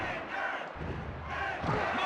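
Arena crowd in the WWF Warzone wrestling game roars continuously, a dense wash of cheering that swells in waves with a few thuds, loud and sustained.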